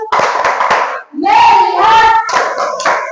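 A group of children run through the 'tepuk fokus' routine, loud chanted voices mixed with a few crisp, rhythmic hand claps in short bursts.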